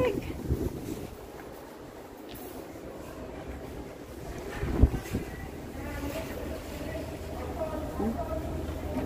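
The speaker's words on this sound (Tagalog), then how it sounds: "grabe kasi lakas ng hangin" Strong, cold wind blusters outside a mall, a steady rushing roar buffeting the microphone with a sharp thump midway.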